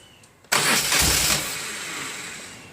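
A 1998 BMW R1100RT motorcycle engine starts after a quiet pause: a loud starter crank that catches into a steady, close running idle which slowly settles.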